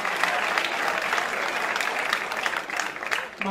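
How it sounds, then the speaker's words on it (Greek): A concert audience at a rebetiko night applauds in a dense, continuous wash of clapping that holds steady and dips briefly near the end. "Ένα χειροκρότημα για τα άλλα παιδιά."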